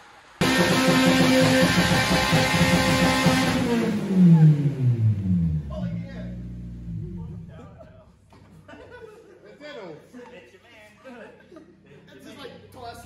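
A drift race car revs loudly at night during a late birthday party, the engine note rising and falling for several seconds before fading as people laugh and talk nearby.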